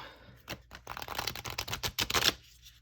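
A deck of tarot cards riffled and shuffled in quick, crackling bursts, close up, with short pauses between flurries and no talking.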